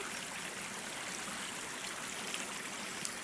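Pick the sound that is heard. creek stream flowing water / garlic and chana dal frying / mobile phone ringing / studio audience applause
creek stream flowing water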